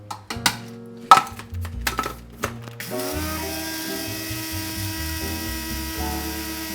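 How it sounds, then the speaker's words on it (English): A few sharp clicks and knocks, then a coffee grinder starts up and runs with a steady mechanical whir. "This is a coffee grinder."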